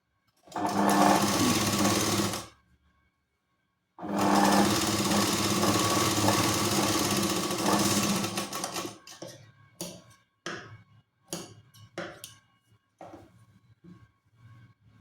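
Sewing machine double-stitching a Katori blouse seam in two loud, steady bursts, then a series of short, sharp clicks and brief mechanical knocks as the work is handled.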